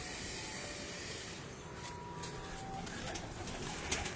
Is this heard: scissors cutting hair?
no